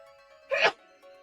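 A single short sneeze bursts out during a gaming session, brief and close, with steady game music in the background before and after.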